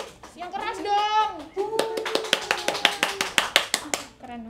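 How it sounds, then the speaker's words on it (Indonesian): A group of children at a Qur'an memorization boarding house claps together after a recitation, with a run of sharp, fairly even claps over a couple of seconds. Speech and a voice come just before. "kita tepuk tangan dulu dong semuanya. Yang keras dong."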